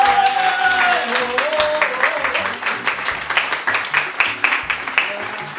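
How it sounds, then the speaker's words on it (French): An audience applauds warmly for a guest, with clapping that grows in rhythmic bursts over background music and a sustained melodic tone early on. "on va vous demander d'applaudir très chaleureusement notre cher ami Nathan"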